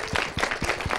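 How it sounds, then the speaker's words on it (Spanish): Studio audience applause at a Mexican youth television program, a steady, fairly close wash of clapping over one second with rhythmic bursts, no voices. "Aplausos también, por favor."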